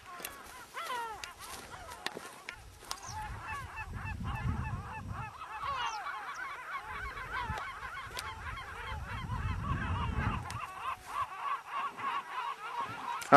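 Water birds, probably geese, honk and call repeatedly as they take flight from the water on Psathonisi, moderately near, with wing flaps and outdoor rustle between bursts and no talk.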